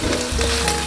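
Boiled baby octopus fries in a pan with a loud, dense sizzle and crackle, heard close and continuous without a break.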